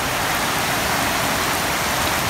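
Heavy rain from a hurricane pouring down in a dense, unbroken broadband hiss, loud and close, steady for the whole stretch with no voices.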